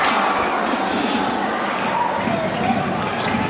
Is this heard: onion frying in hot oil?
no